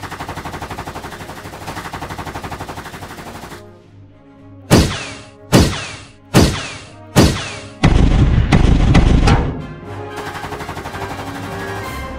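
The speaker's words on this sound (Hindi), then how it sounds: "फायरिंग की आवाजें सुनकर अंदर से भी" Gunfire erupts in an animated action episode: a steady background din gives way to four separate loud shots, then a sustained burst of rapid fire, before the din resumes.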